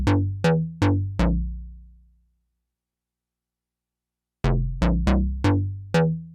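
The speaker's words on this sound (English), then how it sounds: "So this is what the clean synth sound sounds like." Clean synth line without effects from a Noise Engineering Batverb demo: four plucky, decaying notes, a gap of silence, then five more quick notes, bright and upfront with no reverb tail.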